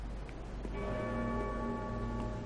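A deep bell tolls in the Dark Souls 3 video game, a sustained ringing hum with steady overtones filling the space at moderate volume, with no talk over it.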